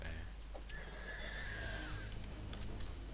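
A horse in the video game Starbound gives one long whinny amid game sounds, clear and moderately loud over a low background hum, with faint clicks around it.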